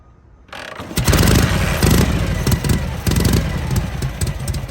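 A Knucklehead motorcycle engine, kicked over once with the choke on, catches right away and runs loud and close with a rough, uneven idle loping through the rest of the clip.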